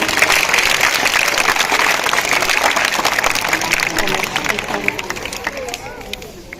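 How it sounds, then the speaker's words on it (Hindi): A school audience at a Teej celebration claps loudly for children after their performance, a thick burst of applause mixed with crowd chatter that gradually thins and fades over several seconds. "इन बच्चों के लिए जोरदार तालियां भी।"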